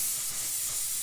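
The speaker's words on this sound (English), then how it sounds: "And the air spray, the compressed." A can of compressed air sprays in one continuous, close, harsh hiss that holds steady for about a second.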